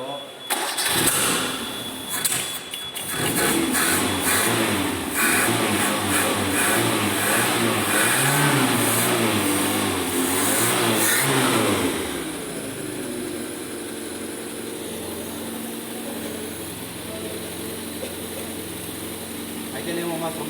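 Car engine in a mechanics class practice session, revving up loudly to around 2000 RPM then dropping back to a lower steady idle, with people talking over it.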